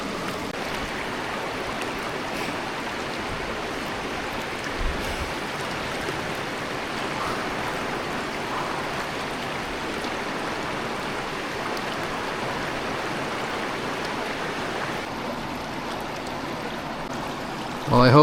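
A stream flows steadily along the old Nakasendo trail in Japan, a close, continuous rush of water that stays loud and even from start to finish, with no talk over it.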